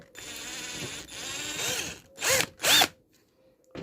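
An electric drill bores into a hard coconut shell, its whine rising and falling in several bursts, with two louder close grinding spurts near the end before it stops.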